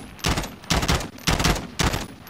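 Call of Duty: Warzone gunfire comes as four sharp, loud automatic bursts spaced about half a second apart, each a short rattling volley, with no speech.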